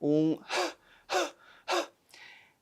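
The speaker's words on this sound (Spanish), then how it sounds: "Se puede hacer un jadeo" A voice demonstrates breathing: a short voiced sound, then three forceful, evenly spaced panting exhales with soft inhales between them.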